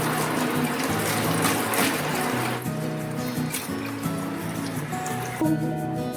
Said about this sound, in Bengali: তারপরে আমি ধুয়ে নিই।